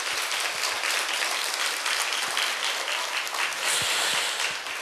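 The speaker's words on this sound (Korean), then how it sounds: "마음을 담아서 한번 박수를 해주시겠어요?" Church congregation applauds during a Sunday sermon, a dense steady wash of many hands clapping together for about five seconds at moderate, even loudness, with no talk over it.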